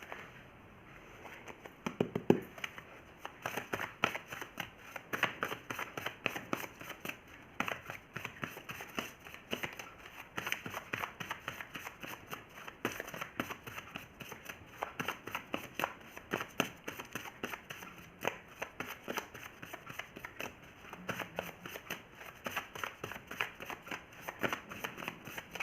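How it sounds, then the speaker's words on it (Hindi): A deck of oracle tarot cards is shuffled by hand for a reading, making soft, quick riffling and flicking taps that go on steadily and close by, faint and alone. "एक कार्ड मैं एनर्जी ऑरेकल से निकालती हूँ"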